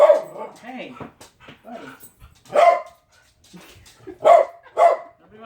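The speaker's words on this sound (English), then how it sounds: "Nobody wants to hear you bark." A dog indoors during a live podcast barks in short, loud bursts, a few sharp woofs spaced apart mixed with whimpers and yips, close to the microphone while someone talks briefly between them.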